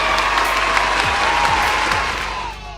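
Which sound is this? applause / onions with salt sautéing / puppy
applause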